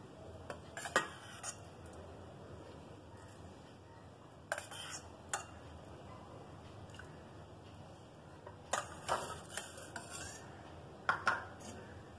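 Soft scraping and clinking of a spoon against a metal pot as vermicelli and sago payasam is stirred, in several short bursts with quiet pauses between.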